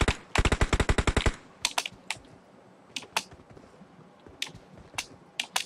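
Gunfire in a battle royale video game opens with a rapid automatic burst of about a dozen sharp shots. Scattered single cracks follow at irregular intervals, crisp and close.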